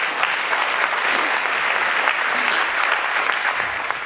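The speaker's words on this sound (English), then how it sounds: "you can clap if you want" A conference audience at a Chrome developer summit claps steadily and evenly for about four seconds, with a dense, sustained wash of hands and no talking.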